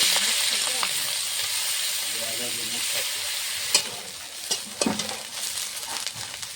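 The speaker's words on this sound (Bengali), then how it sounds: "খোসাগুলো বেছে ধুয়ে রাখা খোসা আমি ভেজে নেব।" Shrimp shells sizzle and crackle in hot mustard oil in a wok, a bright steady frying hiss with occasional stirring clatters and pops growing busier toward the end.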